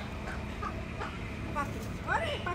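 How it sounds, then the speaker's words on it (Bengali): Muscovy ducks kept at a home give a few faint, short calls over a low, steady background hum, soft and somewhat distant, with people talking nearby. "এটাকে বলে চীনা হাঁস"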